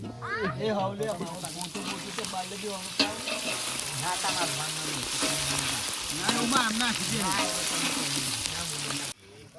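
Ginger, garlic and chili paste with green garlic is stirred in a sizzling pan for village-style Kathiawadi brinjal oro, giving a continuous, close frying hiss and scraping under steady conversation.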